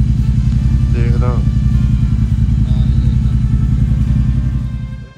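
A Royal Enfield motorcycle ridden on a winter road gives a loud, steady single-cylinder thump close to the rider, an even throbbing rumble that holds the whole way and eases off at the very end, with brief voice-like sounds over it.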